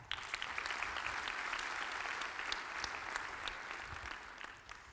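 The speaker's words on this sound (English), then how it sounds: "Another hand of applause for our beautiful choir." Steady audience applause for a choir at a university graduation ceremony, many hands clapping in a large hall, moderately distant and sustained for several seconds.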